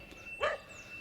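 A small dog gives a single short bark at a distance outdoors by a fishery on the River Swale, faint over quiet background.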